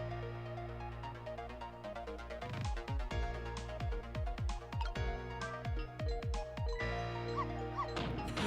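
Dog barking in the video game Ghost Trick, a run of repeated sharp yaps in a steady rhythm over background music, fairly loud and close.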